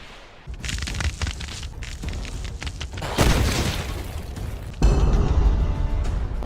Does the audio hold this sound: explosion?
yes